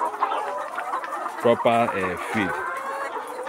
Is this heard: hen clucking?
yes